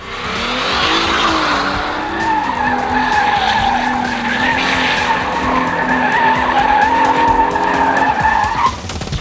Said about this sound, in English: give the journalists an opportunity to test drive our latest vehicle, and that's the IS 250 and 350